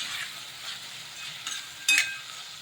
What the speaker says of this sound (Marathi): छान असं परतवून घ्यायचं।